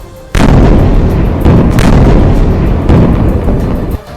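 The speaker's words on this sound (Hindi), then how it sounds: "उन्होंने टारगेट को पहचाना और एक एक कर उन्हें उड़ाना शुरू कर दिया" Loud, heavy explosions from the Israeli army blowing up targets in Gaza come as a rumbling barrage, with fresh blasts landing about every second or so and no voices.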